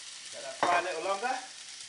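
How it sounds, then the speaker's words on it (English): Steady crackling sizzle of vegetables frying in a hot wok, with a brief louder burst of spitting and stirring partway through, no talking. "Let that fry a little longer."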